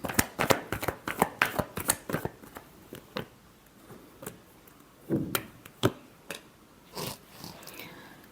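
Tarot cards being shuffled by hand, close crisp riffling flutters in quick bursts, then a pause and a few slower slaps and taps of the deck, with no talking.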